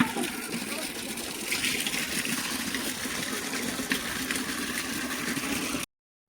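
Water gushes steadily from a tap or pump into a bucket in a village setting, a continuous close rushing sound that stops abruptly near the end.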